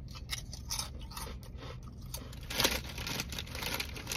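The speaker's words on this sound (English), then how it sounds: "Nice kettle chip, good crunch to them." Subway jalapeno kettle chips crunch with each bite, sounding close to the mic. Crisp crackling comes in uneven bursts, and one bite near the middle is louder than the rest.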